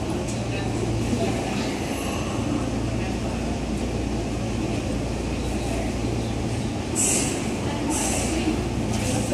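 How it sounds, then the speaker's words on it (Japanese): A Seibu 6000 series commuter express train rumbles steadily as it pulls away from Shibuya station platform, with brief high squeals near the end. "発車いたします。"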